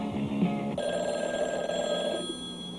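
A telephone bell rings steadily, with a bright tone that changes part way through and then trails off, heard at moderate level over a faint background with no voices.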